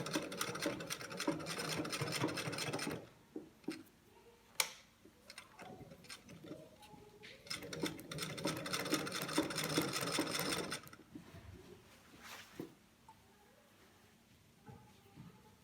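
A sewing machine runs in steady bursts while stitching hidden bias binding on a collar with a wide stitch, its rapid mechanical chatter fairly close, stopping between runs with quiet handling noises and brief talk.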